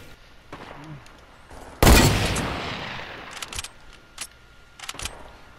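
A single loud, close gunshot in Fortnite with a long decaying tail, followed by quieter scattered shots and clicks further off.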